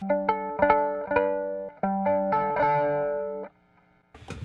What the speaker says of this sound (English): what happens to the character and EQ of the fuzz pedal with a drive pedal after it